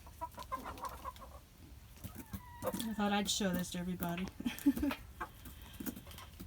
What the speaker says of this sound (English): It's not every day you see chickens carving a pumpkin.